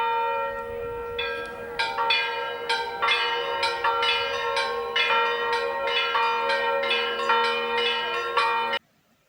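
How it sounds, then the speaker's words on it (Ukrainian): Church bells at Easter ring in a steady repeating pattern of bright, resonant strikes that overlap and sustain, then stop abruptly near the end. "Коли люди йдуть до церкви, то чують, як там дзвонять дзвони."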